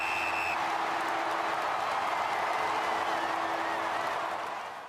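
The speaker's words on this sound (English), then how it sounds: "Listen to the crowd when the siren sounds." A stadium crowd at an AFL match roars in a dense, sustained wash of cheering after a brief siren tone, heard from within the stands and fading slightly at the end.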